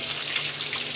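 Garlic and chili hitting hot oil in a kadhai give a steady, close hiss of frying that holds evenly through the whole second without any voices.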